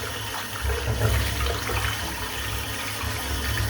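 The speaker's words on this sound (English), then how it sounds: "let's get this brush cleaned up." Tap water runs steadily into a sink while a shaving brush is rinsed clean, a continuous splashing rush at moderate level with small shifts in the flow.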